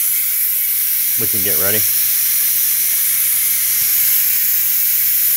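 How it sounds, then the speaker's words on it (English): Steam hisses steadily and loudly from the pressure release of a Ninja Foodi cooker, a continuous rushing sound with a short spoken phrase over it early on. "Go ahead and release the pressure."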